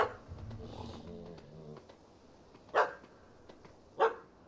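In The Witcher 3 video game, a dog gives two short, sharp barks spaced about a second apart, moderately loud, following faint low murmuring at the start.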